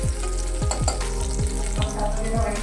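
Turmeric and ground coriander sautéing in a pan for village-style paya soup, with a steady close sizzle and repeated scraping strokes of a spoon stirring through the spices.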